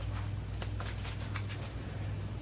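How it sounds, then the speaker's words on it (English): A deck of cards for a tabletop hockey simulation game is shuffled close by, giving a steady papery riffling with a few sharper snaps over a low background hum. "I'm just doing my shuffling off camera as usual."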